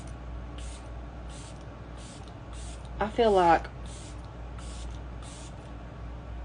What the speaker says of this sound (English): And then I'm going to spray a little bit of setting spray.